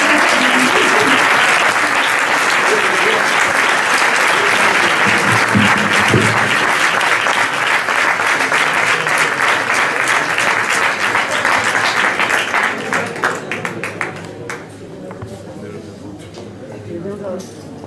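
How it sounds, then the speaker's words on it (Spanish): Sustained audience applause at a tribute to anonymous women held in a restaurant in San Pedro de Alcántara, dense and loud from a seated crowd, holding steady for about twelve seconds before thinning into scattered claps and fading out. "Y yo quiero que le deis un aplauso."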